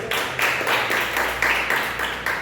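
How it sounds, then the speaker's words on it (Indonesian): A church congregation claps in a steady, rhythmic beat of loud bursts, roughly two per second, with no voices over it. "Tepuk tangan buat Tuhan."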